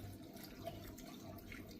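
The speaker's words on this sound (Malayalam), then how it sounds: "ആവശ്യത്തിന് വെള്ളം ഒഴിച്ചു കൊടുക്കാം." Water is poured into a pot of sambar being cooked in a home kitchen, a faint, steady trickling splash that lasts the whole moment with no talking.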